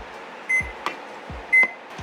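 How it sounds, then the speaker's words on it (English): A timer is being set, giving short electronic beeps, two or three close, clear blips separated by quiet pauses, with faint low thumps between them. "So now I'm just gonna set my timer."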